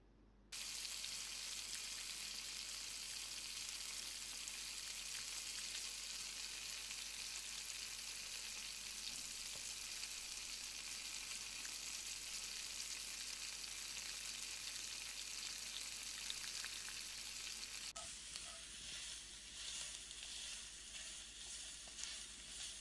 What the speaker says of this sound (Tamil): நம்ம ஆட் பண்ண பேஸ்டோட பச்சை வாசனை போகிற வரைக்கும் வறுத்துக்கலாம்.